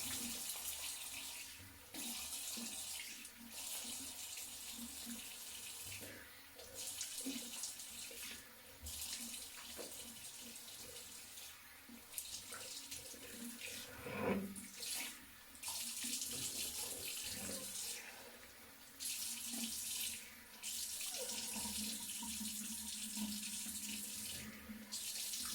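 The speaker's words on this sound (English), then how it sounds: "So now I'm just going to rinse my face with lukewarm water" Lukewarm tap water runs into a sink while a face is rinsed, a steady hiss that stops and restarts in several bursts with short gaps, heard alone.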